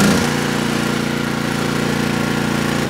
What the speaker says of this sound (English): What's causing it not to run smoothly is the choke.